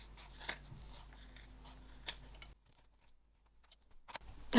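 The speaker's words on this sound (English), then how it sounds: "So trim off about half of that seam allowance. Just trim your corners more than anything." Scissors snip through fabric corners and seam allowance on a sewing project, a series of soft close cuts and clicks, then a brief quiet gap before a few more snips.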